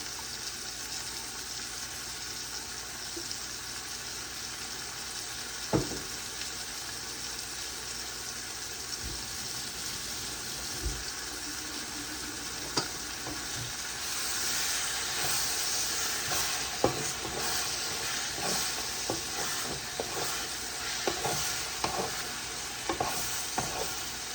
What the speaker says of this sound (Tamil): இந்த அரைச்ச தக்காளி விழுது, இதை வெங்காயத்தோட போட்டு வதக்க வேணும்